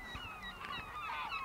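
Seabirds call from a small gull island off the Norwegian coast, a string of overlapping shrill, honking cries over steady outdoor background noise, moderately distant and with no talk.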